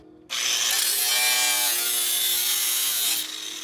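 A loud, steady high-pitched grinding screech of a cutting disc on a Honda Civic's metal frame, running continuously for a few seconds before easing off slightly.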